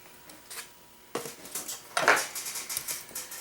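Beef is set face down into a slow cooker pot for stew, with close, bright clatters and knocks of metal and ceramic in a few uneven bursts, loudest near the middle.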